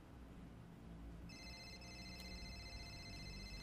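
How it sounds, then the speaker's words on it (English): A phone rings in the video game Watch Dogs: a steady, bright electronic ringtone starts about a third of the way in and keeps going over low game background noise. "You might want to answer your phone"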